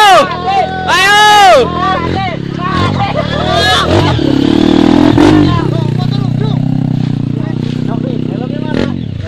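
A trail motorcycle revs hard on a steep, twisting uphill climb in West Lampung, the engine rising and falling in loud, wavering bursts while people shout and talk close by.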